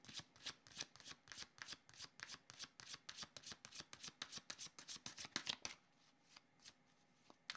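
Tarot cards are shuffled in a quick run of crisp riffling flicks, close up and steady for about six seconds before stopping, leaving near silence with only a faint soft touch at the end.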